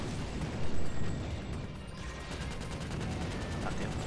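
Rapid gunfire bursts from the PlayStation 3 game Ratchet: Deadlocked, a dense busy layer of shots and blasts that stays steady and moderately loud, with a stronger cluster of impacts early on.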